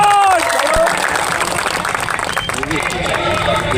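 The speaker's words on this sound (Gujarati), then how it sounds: "જોરદાર તાળીઓથી વધાવી લઈશું" Crowd applause at a large public political rally, loud and sustained clapping with cheering and crowd noise filling the whole stretch, with voices mixed in throughout.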